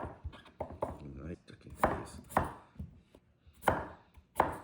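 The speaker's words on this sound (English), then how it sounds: "I just need to make room here to roughly chop the potatoes." Potatoes being roughly chopped with a knife: a handful of crisp, close knocks on a board at irregular spacing, mixed with a voice talking in between.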